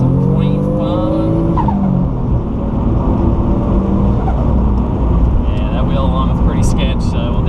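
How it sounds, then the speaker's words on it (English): Turbocharged 1989 Toyota Supra street car driven hard, its engine roaring loud and steady throughout with a turbo flutter chattering as the throttle lifts, while people talk over it. "Oh, that turbo flutter never gets old."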